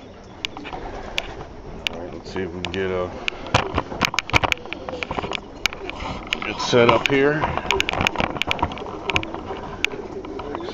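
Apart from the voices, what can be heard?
birds cooing as they come out of the building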